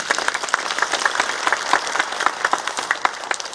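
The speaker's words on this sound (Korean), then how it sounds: "응원의 박수 한번 쳐드리시죠" An audience claps at the opening ceremony of a demand-responsive bus service in Icheon. Dense, steady applause from a nearby crowd continues without any talk.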